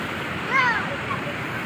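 A constant broadband rush of water flowing over a weir fills the clip, with a brief faint voice or call rising above it.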